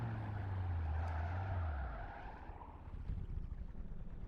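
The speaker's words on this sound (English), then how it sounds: "how are the engine sounds that I'm hearing? It's like listening them through a cheap speaker on a phone." A car engine in the Gran Turismo 5 racing game, played back thin and tinny like a cheap phone speaker, drones low and steady, then drops in pitch and fades into a rougher, noisier rumble.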